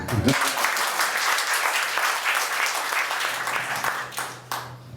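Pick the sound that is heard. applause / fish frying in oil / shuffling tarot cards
applause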